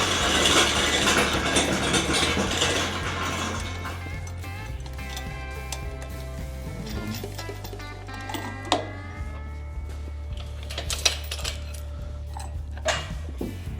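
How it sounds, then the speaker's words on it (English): Ratcheting and clicking of an engine crane being worked by hand in a workshop while a Land Rover Defender engine and gearbox are fitted, irregular ticks and clanks over a steady low hum, with no talk. "I am just out of shot trying to make the engine crane work"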